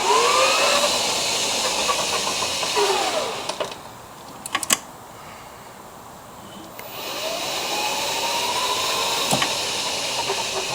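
A 1990 EZ-GO electric golf cart with upgraded batteries accelerates forward with a steady whirring hiss from the motor that drops away briefly midway and then returns, close and continuous with no talk.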